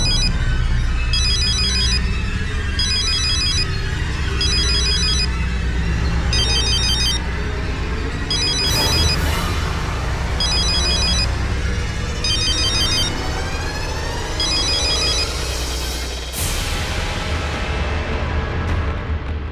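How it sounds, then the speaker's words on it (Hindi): A telephone rings in repeated evenly spaced bursts of bright trilling tones, loud and close, over a steady background of low music and room noise in a dramatic scene. "मैं अभी सीमा जी को फोन करता हूं।"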